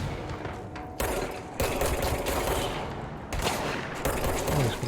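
Shotgun blasts and other gunfire fill a firefight in the video game Control, with three heavy, loud bursts about a second or more apart over continuous dense combat noise.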